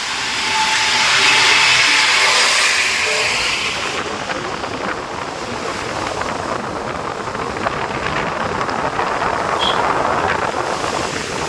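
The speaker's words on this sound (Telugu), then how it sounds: "లారీ కొండ ఎక్కలేకపోతుంది" A heavy lorry labours up a hill road through the Nallamala forest, its engine droning in a loud, continuous rumble mixed with wind noise, swelling early and then holding steady.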